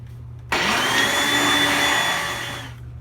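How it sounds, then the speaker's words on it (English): A blender roars on suddenly and runs steadily at high speed for a couple of seconds, then winds down. It is loud and close, with no talking. "After a little fight with the blender, we got what we needed."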